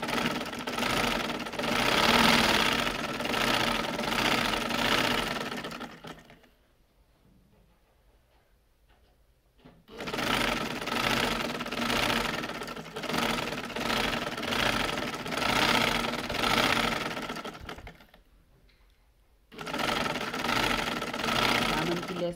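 Sewing machine stitching lace onto the slit edge of a kurti, running in two long continuous bursts separated by a pause, close and loud.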